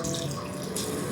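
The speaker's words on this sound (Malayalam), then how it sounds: "വെള്ളം ഒഴിക്കാം." Water is poured into a pressure cooker for prawn rice: a brief, continuous splashing gush lasting about a second, close and fairly quiet, with no voices.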